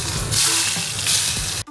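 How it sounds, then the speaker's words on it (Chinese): Hot oil poured over freshly steamed fish gives a loud, broad sizzle that flares twice in quick bursts over under two seconds before abruptly cutting off, with no talking. "蒸鱼的灵魂就在于蒸熟之后浇上热油"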